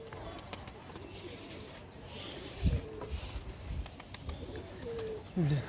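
Young pigeons coo softly in the background while people talk nearby on a rooftop with pigeon perches, with a few louder thumps and rustles.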